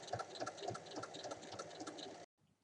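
A domestic sewing machine stitching a seam on a holdall tote bag hums in a steady, rhythmic close run, quiet overall, then cuts off sharply near the end.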